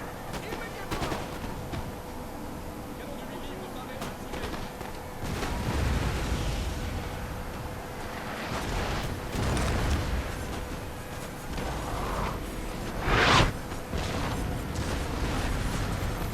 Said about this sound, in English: them all collectively firing their muskets there